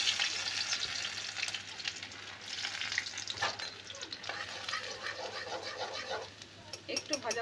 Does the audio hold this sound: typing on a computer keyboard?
no